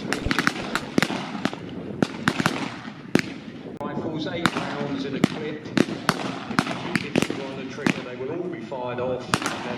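Rifle and automatic rifle fire at a WWII German versus American infantry battle reenactment, sharp reports cracking in rapid irregular bursts, some close and loud, over continuous crowd and commentary talk.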